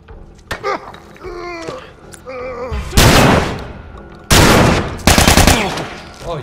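Rapid automatic gunfire in The Last of Us rips out in loud sustained bursts, after a few clanking sounds and brief vocal noises at the start.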